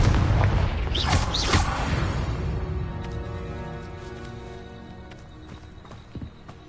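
Confringo blasting spell cast in Hogwarts Legacy, a loud fiery burst and rumbling boom up front that decays into a long fading crackle and ringing tail.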